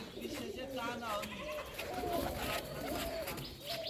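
Pet birds coo and call steadily at a morning feeding. Soft, overlapping cooing fills the space beneath a person talking nearby.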